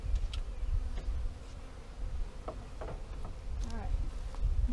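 Honey bees newly arrived on a ranch buzz around a hive box as a low, steady droning hum, fairly faint, with a few soft knocks and faint voices nearby.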